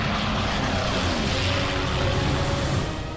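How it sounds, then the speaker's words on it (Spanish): British Typhoon fighter planes roar overhead in a steady, loud, continuous engine drone that slowly shifts in pitch, in a wartime battle at Mortain. "aparecieron 2 aviones Typhoon británicos lanzando cohetes"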